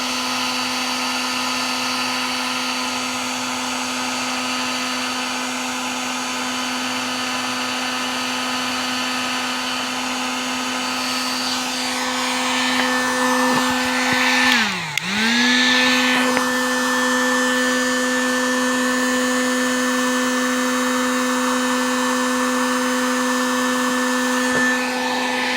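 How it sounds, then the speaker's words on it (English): Heat gun blowing hot air onto plastic pipe for a hydroponic tower, a loud steady whirring hum held close for the whole stretch, with one brief dip in pitch midway before it settles back. "It goes a little quicker after the heat gun's been heated up."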